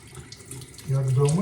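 Tap water starts running into a sink for washing gluten dough, a soft background hiss that swells suddenly into a steady, close rushing stream partway through.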